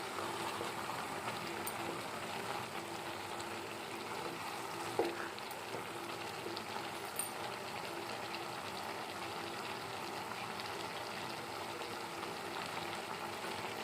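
Tomato chutney cooking down in a pan, a continuous soft sizzle and bubbling simmer at low level, with a small clink partway through and no talking.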